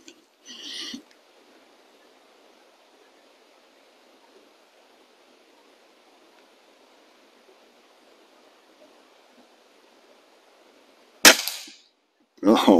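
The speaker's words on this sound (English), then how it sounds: "So I'm going to shoot a few more shots and see if we can't reset that target." A Feinwerkbau air rifle fires at plinking targets outdoors: a sharp, close report near the end is followed by a quick metallic target clatter, with another brief burst at the start and a long stretch of faint background hiss between.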